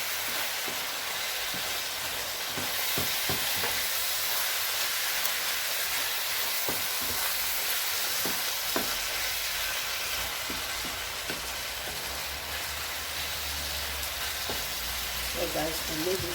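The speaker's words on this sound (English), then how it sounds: "I'm going to stir it very well because I would want the spices to stay in one place." A pot of vegetable rice with spices being stirred, heard as a steady sizzling hiss under repeated soft scraping and knocking of a spoon against the pot, continuous and close.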